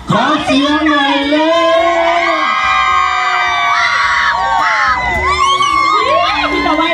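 A lively crowd of young people cheers, whoops and shouts to welcome the second team at a village som tam papaya-salad dance competition, the loud excited voices filling the whole stretch without a break.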